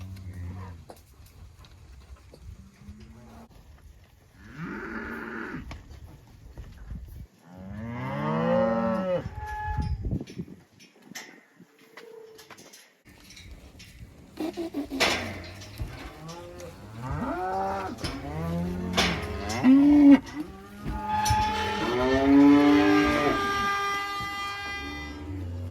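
Cattle bellow over and over in a corral filled nearly to capacity, with loud, drawn-out moos from several animals overlapping, some near and some farther away, and no voices.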